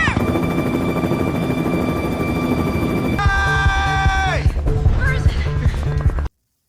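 Loud, continuous mechanical drone with steady whining tones, shifting midway into a rougher, rattling roar before cutting off abruptly.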